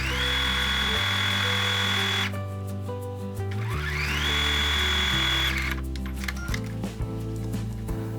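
A sewing machine stitching shopper bag panels with a 1 cm seam, running in fast whirring bursts that stop and restart with brief pauses and small clicks between, close and clear.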